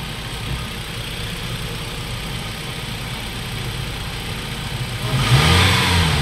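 A Nissan X-Trail engine, just fitted with a replacement throttle body, idles steadily at close range before rising into a louder rev near the end, with no voices.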